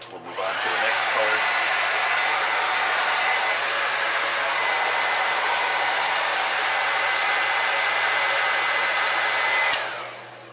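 A heat tool blows hot air to set paint on a walleye crankbait lure, a loud, steady whooshing roar that starts abruptly and cuts off near the end.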